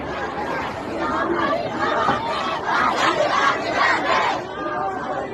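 Protesters in an Iranian street protest chant and shout together in a loud, rhythmic mass of voices, a dense crowd roar with repeated surging phrases.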